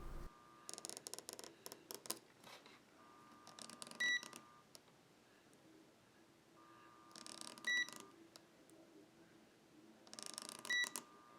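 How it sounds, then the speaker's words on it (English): Continuity-mode beeps from a multimeter probing solder pads on a Pokémon Ruby game cartridge board: three short, clear electronic tones spaced a few seconds apart, with faint scratching of a probe lead between them. "A beep means that the pad has continuity and therefore is good."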